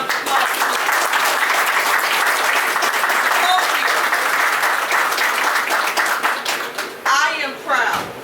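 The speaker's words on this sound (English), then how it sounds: "give him a huge round of applause" Loud, sustained applause from a crowd at a Philadelphia fire department ceremony honoring the city's former mayor, a dense wash of clapping with cheers and shouts rising near the end.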